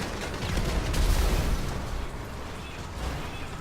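An explosion hits a TM-02 Khanjali tank in the GTA video game, a deep booming burst with a rumbling tail that decays into steady low noise over a few seconds.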